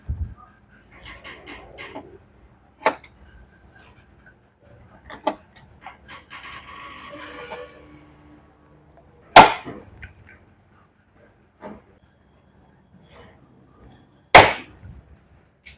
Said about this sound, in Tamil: இப்படி ப்ரெஸ் பண்ணால் போதும். நல்லா ரிவிட் வந்து ஓப்பன் ஆகிடும்.